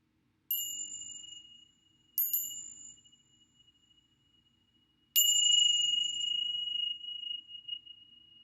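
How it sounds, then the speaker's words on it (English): Three clear, ringing meditation chime strikes mark the start of a guided breathing session, the first two close together and the third after a pause, each tone sustaining and slowly fading in a quiet room. "We'll do the chimes as well to mark the beginning."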